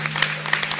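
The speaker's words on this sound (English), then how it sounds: "Let's give them another round of applause." A panel discussion audience gives a short round of clapping for young people, brisk and moderately loud over a faint steady electrical hum.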